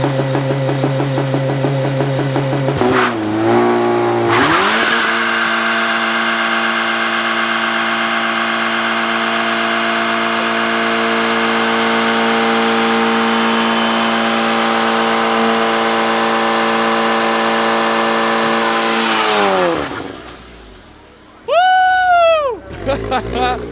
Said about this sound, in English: this guy up here said he was gonna do a burnout